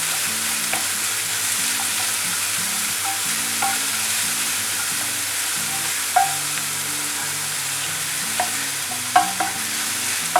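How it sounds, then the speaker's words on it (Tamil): Onions frying in a pan, a steady sizzle under repeated scraping and stirring with occasional sharper clinks of the spoon against the pan, close and continuous. "இதில் வெங்காயம் சேர்க்குறேன். ஸோ வெங்காயம் வந்து நல்லா குக் ஆகணும்."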